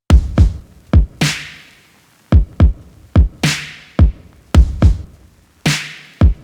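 A punchy drum loop plays alone, deep kicks and sharp snares with splashy cymbal hits repeating in a steady, driving pattern.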